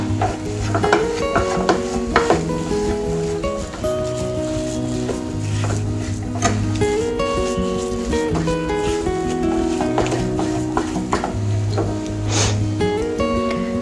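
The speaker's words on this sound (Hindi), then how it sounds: "मटर अच्छे से भून गया है" Green peas roast in a pan for a hot matar kachori filling, with loud repeated scraping and stirring strokes over a steady sizzle, close and without speech.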